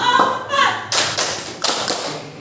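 Several sharp hand claps in a rhythmic tepuk clapping exercise, a counting voice at the start, then a series of crisp, evenly spaced claps close by.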